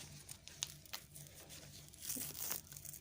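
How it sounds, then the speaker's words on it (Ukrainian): A paper packet of Marmara F1 tomato seeds being torn and opened by hand, giving soft crinkling and tearing rustles with a brighter rip near the end, close and fairly quiet with no talk. "Я їх прямо так ось пакетик відкрию"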